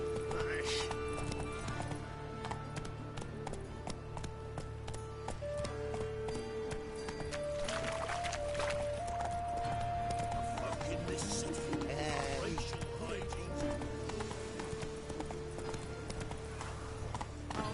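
Roach, a horse in The Witcher 3, gallops with rapid rhythmic hoofbeats under game music, and a voice talks over the scene.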